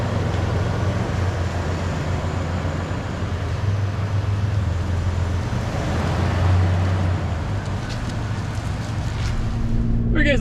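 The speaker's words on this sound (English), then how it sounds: "Guys, now we're driving to Tom's mechanic shop" A 2023 Toyota 4Runner TRD Pro drives on a road, its steady low engine drone and road rumble running throughout from inside the cabin, with brief clicks near the end.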